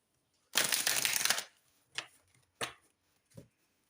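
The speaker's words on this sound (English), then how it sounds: "I'm just going to cut the deck. Just going to give this a quick shuffle." An energy oracle card deck is given a quick riffle shuffle, one loud dense burst of flicking cards followed by three short softer taps and shuffles of the cards being cut and squared.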